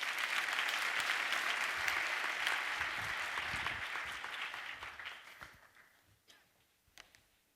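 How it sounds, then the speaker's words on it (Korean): An audience claps warmly to welcome vocal and instrumental performers at a church gathering. The applause starts full and dense, then thins gradually until only a few scattered claps remain. "우리 박수로 맞이하겠습니다."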